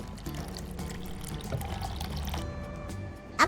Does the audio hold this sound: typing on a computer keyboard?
no